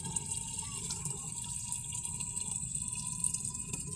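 Water steadily filling a container for a homemade self-irrigation setup, a continuous soft trickle and splash at moderate distance, with no voices.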